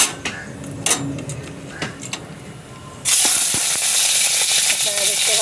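Shrimp drop into a hot pan with cumin, potato, onion, ginger and garlic and burst into a loud, steady sizzle and hiss, preceded by a few clinks and a quieter crackle.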